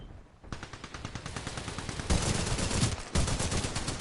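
Rapid automatic gunfire from Titanfall 2 rattles in a dense, continuous stream of close, loud shots, with brief gaps and shifts in intensity as bursts restart.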